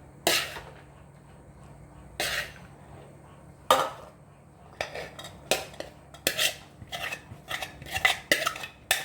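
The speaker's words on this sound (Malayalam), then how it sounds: "നമുക്ക് മസാലയ്ക്കകത്തോട്ട് ചക്കുരു ഇടാം" Jackfruit seeds tipped into a pan of fried masala, with a few spaced metallic clinks and scrapes of a spoon against the pan, growing into a quicker run of clatters toward the end; close and fairly quiet.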